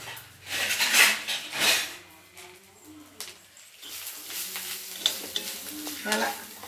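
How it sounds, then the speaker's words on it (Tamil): Spices for a potato masala being stirred and dry-roasted in a frying pan, with soft sizzling and repeated scraping strokes of a spoon against the metal, close and clear with no talk. "எல்லாத்தையும் போட்டு பொன் வறுவலாக வறுக்கணும்"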